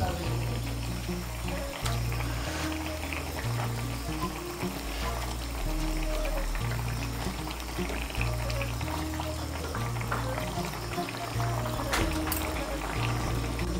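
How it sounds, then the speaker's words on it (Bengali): Fried pointed gourd pieces go into a pot of boiling broth, giving a continuous close bubbling and splashing with small clinks, steady and moderately loud, no voice over it. "এই দেখুন, ঝোলটা ফুটে উঠেছে। এখন এর মধ্যে দিয়ে দেবো ভেজে রাখা পটলগুলো।"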